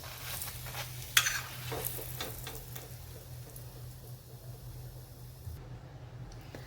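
Paneer pieces for tacos roast in a pan with a low, steady sizzle. A sharp scrape or clink of a utensil stands out early, then the frying hiss continues quietly.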